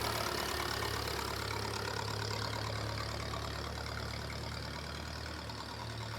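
A classic Ferguson TE20 tractor engine runs at a steady low idle, with a constant throbbing drone that stays fairly faint and even throughout and has no voices over it.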